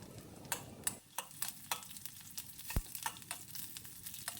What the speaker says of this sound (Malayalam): ഇതാ കുറച്ച് വറ്റൽമുളക് കൂടെ ചേർക്കുകയാണ്